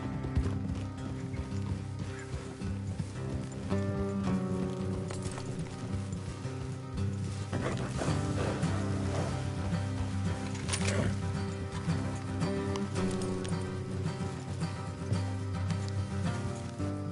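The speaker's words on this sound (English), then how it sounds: "Let's leave the horses here and go the rest on foot." A steady clip-clop of several horses' hooves on a trail in a Western-style video game continues throughout under a layered musical score, with no talking.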